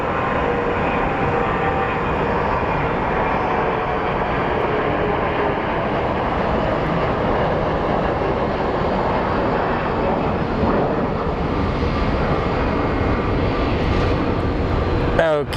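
A small CRJ regional jet at Phoenix Sky Harbor airport produces a steady, loud broadband roar that holds evenly throughout, with background voices faintly present beneath the engine noise.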